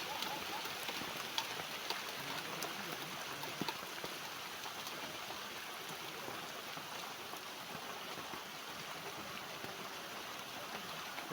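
Steady rain mixed with hailstones patters across surfaces in Arunachal, a dense, even hiss of drops with occasional sharper ticks, moderately faint and continuous throughout.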